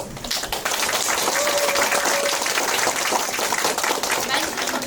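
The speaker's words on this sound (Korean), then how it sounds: "한분한분 소개해 드릴 때마다 뜨거운 박수로 환영해 주시기 바랍니다" Applause from an audience at a neighbourhood residents' association event, welcoming guests as each is introduced. Dense, sustained clapping fills the whole stretch at steady volume, with a brief faint tone partway through.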